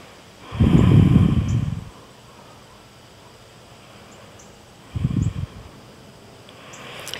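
A person in a beginner yoga stretch takes two deep, close breaths: one long airy rush, then a shorter one a few seconds later, with quiet in between.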